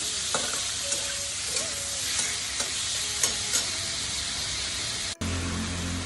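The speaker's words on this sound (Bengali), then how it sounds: "খুব বেশি মাছ নয়, তাই আমি একবারেই ভেজে দিচ্ছি।" Medium-sized prawns fry in a pan of oil, a steady loud sizzle running throughout with a few brief clinks of stirring, then a sudden cut to a quieter, lower hiss near the end.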